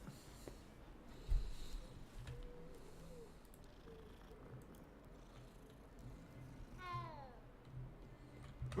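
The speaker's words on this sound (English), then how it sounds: "Cat." A cat in Hogwarts Legacy lets out a single rising-then-falling meow near the end, fairly clear above a steady, low game ambience with a soft thump earlier on.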